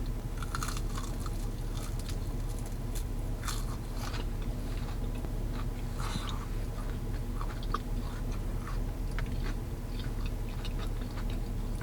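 Crunchy Popeyes chicken nuggets being eaten: close, quiet bites and chewing crunches come in irregular bursts over a steady low background hum, with no talk.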